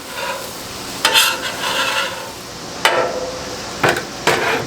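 Food fries on a Blackstone griddle with a constant broad sizzle, broken by several sharp metallic scrapes and taps from a spatula.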